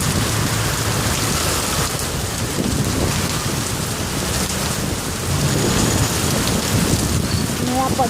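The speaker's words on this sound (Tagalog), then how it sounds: "Lakas ng ulan guys." Heavy rain pours steadily on surfaces nearby, with rolling thunder and some wind, a loud continuous wash throughout.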